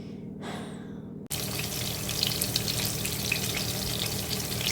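Meat cutlets, spooned out and dropped into hot oil in a pan, give a loud, steady frying sizzle that bursts in suddenly after a brief softer hiss and keeps crackling close up.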